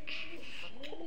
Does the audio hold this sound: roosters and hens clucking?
no